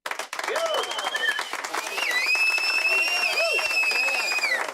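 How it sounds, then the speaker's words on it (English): Crowd applause and cheering after a Yankees–Tigers baseball game, steady and loud throughout, with whistles and a voice calling over the crowd. "We got to give Clark Schmidt a round of applause."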